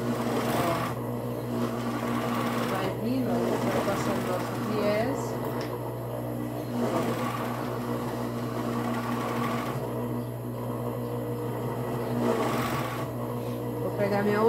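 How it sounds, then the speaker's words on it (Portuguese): A sewing machine stitches bias binding onto a child's bodysuit, running in steady bursts with pauses between them, while someone talks over it. "vou passar o meu viés aqui na parte de trás do meu body"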